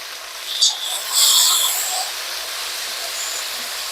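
Chopped vegetables, curry leaves and asafoetida sauté in a pan for a quick tiffin sambar, giving a steady, soft sizzling hiss with a brief louder burst near the start, close and continuous with no voices.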